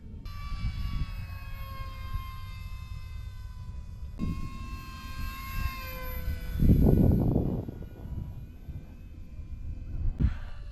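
Small Aeroscout radio-controlled model airplane droning steadily overhead with a whining electric motor, pitch rising and falling as it passes, with brief louder bursts and faint wind noise.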